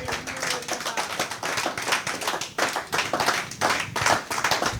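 A church congregation at an Easter celebration service claps together, with steady rhythmic handclaps from many people close by that carry on throughout.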